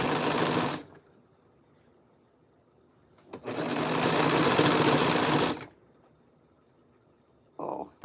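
A sewing machine top stitches pieced waistband sections, running in two steady bursts of about a second and two seconds with a quiet pause between, then a brief restart at the end.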